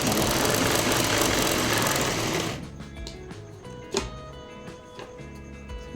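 A sewing machine stitching salwar belt fabric runs in a loud, rapid continuous whir, then slows into short, uneven bursts of stitching with clicks.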